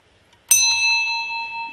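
A single bell is struck once, giving a bright metallic strike followed by a clear sustained ring that slowly decays, heard alone and close.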